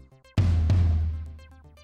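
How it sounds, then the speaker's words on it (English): A floor tom drum is struck once, with a single deep, booming hit that rings out and slowly decays. It sits over a soft melodic backing in a children's music setting, with no voices. "And this is a floor tom."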